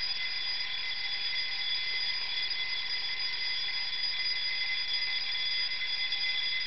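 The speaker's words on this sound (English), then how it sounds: "at the end of the minute, we should have an alarm sound go off." An alarm tone from KAlarm alarm clock software on Ubuntu 9.10 sounds as a steady, continuous electronic ring at even volume, with no voices.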